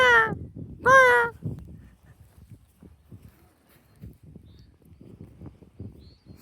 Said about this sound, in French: Je t'entends, il y avait un oiseau.